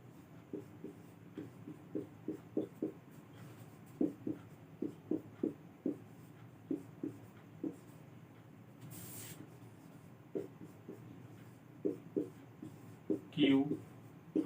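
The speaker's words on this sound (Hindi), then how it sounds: "तो पहले मैं ए टू जेड लिख लेता हूं।" Pen strokes writing the alphabet from A to Z on a board or paper, a quiet run of short scratchy taps in irregular clusters, with faint talk in the background.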